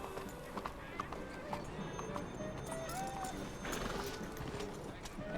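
Hooves clop rhythmically and a horse whinnies in Red Dead Redemption 2, close and clear, while a voice talks over the sounds.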